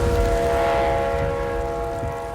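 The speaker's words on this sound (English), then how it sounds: "the 24 trains a day that rumble through Attica" A train rumbles through the small town of Attica, a loud, close, continuous low roar with a sustained horn tone, slowly fading as it passes, no voices.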